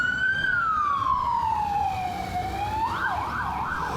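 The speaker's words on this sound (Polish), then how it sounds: "2 karetki już zajechały" An ambulance siren on a street in Ibiza wails nearby, its long falling tone sliding down slowly before switching to a rapid warbling yelp, loud and steady over faint traffic rumble.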